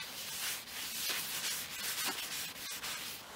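Steady soft rubbing of sanding sealer being worked by hand onto a turned wooden bowl, a continuous close swishing friction with small breaks and no talking.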